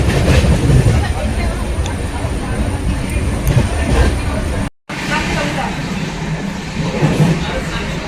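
Amrit Bharat Express train pulling into Durgapur station heard from inside the coach, a loud continuous rumble and rattle of wheels with cabin noise and a brief cut midway.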